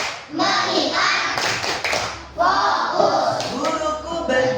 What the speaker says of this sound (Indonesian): yaitu tepuk konsentrasi